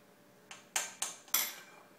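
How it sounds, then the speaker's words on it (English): Four quick metallic clinks ring out one after another as a tablespoon taps against a donut maker while donut mix is spooned into each hole, the last strike the loudest, with a quiet background. "we are going to go ahead and put a tablespoon of mix into each donut hole"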